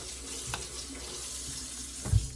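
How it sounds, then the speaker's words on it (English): Water runs from a kitchen tap in a steady, fairly quiet stream while food is rinsed, with a couple of small knocks near the end. "Let me wash this food so I can taste"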